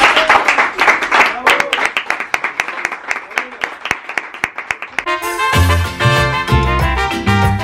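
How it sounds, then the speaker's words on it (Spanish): Rhythmic group clapping in a steady beat for a super-spicy XXL burrito eating challenge runs for about five seconds, loud and close, then gives way to music. "Bueno, pues un aplauso, ¿no?"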